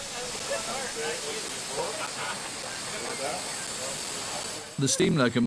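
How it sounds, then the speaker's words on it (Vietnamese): Steam locomotive on the Zambezi bridge gives off a steady broadband hiss throughout, with a louder burst of steam and clatter near the end. "Chiếc đầu máy hơi nước dừng lại ở giữa cầu để hành khách có thể xuống ngắm hẹp núi và thác nước"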